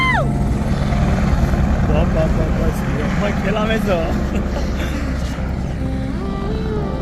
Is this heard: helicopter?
yes